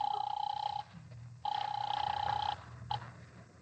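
An old-fashioned telephone bell rings in two long bursts with a short pause between, then gives a brief third ring as a caller waits for the line. The rings are fairly faint, with a low hum beneath.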